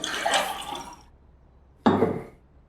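Water is poured into a glass in a short burst near the end, close and clear, following a brief rush of hissy sound.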